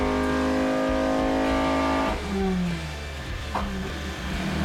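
Toyota MR2 engine running hard on a dyno during tuning, a loud steady high-revving drone with strong harmonics that drops sharply partway through, then settles into a lower idle-like hum with a brief rev blip near the end.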